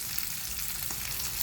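Egg seasoned with salt and pepper frying in a pan alongside browned meat and onions for a burger, a steady close sizzle with light crackle throughout and no voices.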